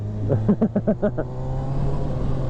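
A stock-exhausted 2019 Honda CBR600RR sport bike revs in a quick run of about six sharp throttle blips, then drops back to a steady, close idle.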